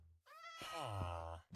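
One drawn-out meow from a cat in the Minecraft video game, a single clear rising-falling call, close and isolated, over a faint low hum.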